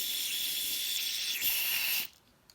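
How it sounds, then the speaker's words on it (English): Carburetor cleaner sprayed through a mini bike carburetor gives a steady, close hiss of pressurized spray lasting about two seconds, then cuts off abruptly, leaving a faint tick. "You see carburetor cleaner is just going everywhere."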